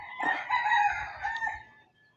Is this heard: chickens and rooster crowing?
yes